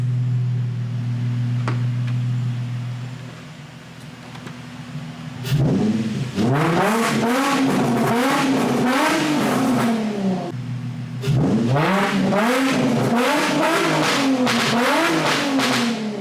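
Infiniti G35 coupe with an ISR blast pipe exhaust revving loudly up close in two long bursts, each rising and falling several times after a low idle, with no talking.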